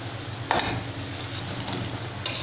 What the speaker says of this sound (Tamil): கிரேவியோட நல்லா mix பண்ணிக்கோங்க ஒரு டைம்